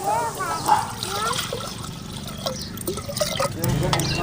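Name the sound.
half a litre of water poured into a cooking pot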